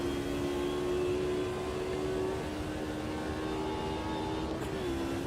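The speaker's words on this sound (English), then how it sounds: "Do love the sound of this thing with the naturally aspirated engine shouting away." A naturally aspirated race car engine in the racing game Automobilista 2 on the Hockenheim circuit, holding a steady loud drone with a slight pitch dip near the end, no talk over it.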